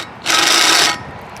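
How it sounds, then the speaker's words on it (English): A drill bit spins briefly to chamfer the edge of a hole in a trellis post for a grape trellis, giving one short loud whirring burst of under a second, close up, with no talk. "I want to chamfer the sides a little bit on these holes to make sure that they don't have any sharp edges"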